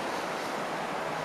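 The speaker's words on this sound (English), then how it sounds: "There's the river here." A river flows past slick rocks in a mossy Oregon forest, a steady broadband rush of water close by, continuous and fairly loud with no break.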